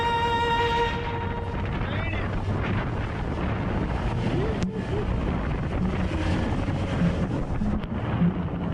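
Heavy rain and gusting wind sweep over a small skiff crossing the Gulf Stream, a dense, steady roar of rain and wind buffeting with rumbling low noise throughout, close and loud, with no clear voices.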